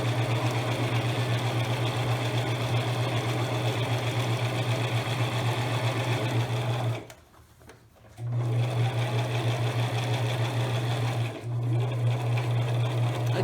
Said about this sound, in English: Now I'm going to continue to sew down again.